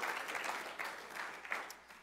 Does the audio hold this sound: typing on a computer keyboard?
no